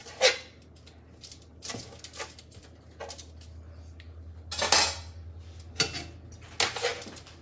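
Knife cutting vegetables on a board in a home kitchen making Philly flatbread, heard as sharp, irregular chops and clatters of the blade and utensils, fairly close and loud.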